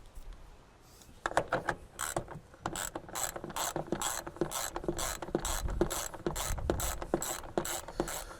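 Ratchet wrench loosening bolts during a car A/C installation, a fast clicking pawl in repeated bursts with short pauses between strokes, close and clear with no talking.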